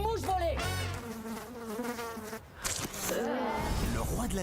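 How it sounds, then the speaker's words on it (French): Buzzing of a fly played as a sound effect, a loud close droning whine that wavers in pitch and continues throughout with a brief dip partway. "Je ne veux pas entendre une mouche voler."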